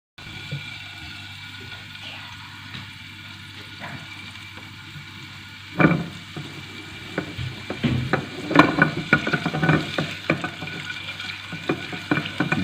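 Ginger garlic paste fries in oil for chicken dry chilli, with a low steady sizzle that turns busier partway through as a spoon stirs and scrapes repeatedly.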